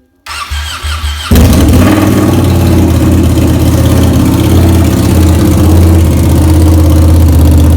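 A gold Ducati Panigale motorcycle with straight pipes and no mufflers starts up and then idles loud and close, its deep, steady rumble running unbroken to the end.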